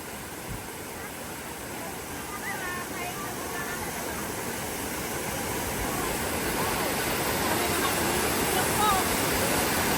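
Water pours at Tsuen Wan waterfall as a steady, broad rushing roar that swells slightly louder toward the end, with no breaks.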